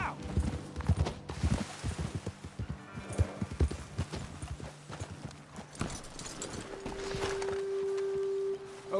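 Horses' hooves clip-clop steadily on a trail in the Western video game Red Dead Redemption 2, close and rhythmic. The steps slow and stop, followed by a snort and a sustained tone.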